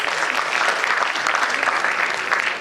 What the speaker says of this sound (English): So big round of applause for all of us